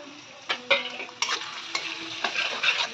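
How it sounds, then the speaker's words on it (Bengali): Chopped garlic, ginger and green chili hiss in hot oil, punctuated by a handful of sharp spatula taps and scrapes against the pan, close up with no talking. "প্রথমে তেল দিয়েছি, তার মধ্যে রসুন কুচি, আদা কুচি আর লঙ্কা কুচিটা দিয়ে দেবো"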